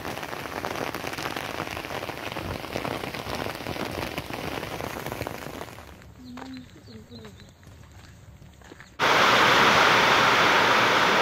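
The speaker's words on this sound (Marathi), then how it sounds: "अचानक आलेल्या या पावसानं काही गावांमध्ये काय स्थिती झाली होती ते पाहूया" Sudden heavy rain pours down in a steady hiss of drops on surfaces, then briefly quietens with faint other sounds before bursting back louder and denser near the end; some speech seems mixed in.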